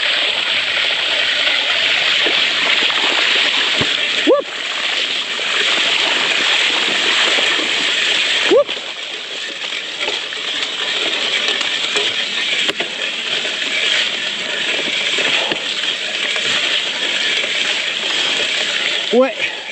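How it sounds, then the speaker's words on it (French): A gravel bike riding up a stream in the rain, with continuous rushing, splashing water and occasional sharp mechanical clicks and clunks from the bike throughout. "À la pluie, je suis en train de remonter un ruisseau là."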